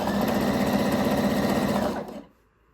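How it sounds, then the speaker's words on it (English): A sewing machine runs steadily while stitching the mesh edge of a pair of pole shorts, a loud, even mechanical whir with rapid needle rhythm that stops abruptly near the end, leaving near silence. "Be careful not to sew over the pins that are in the mesh edge between the 2 layers."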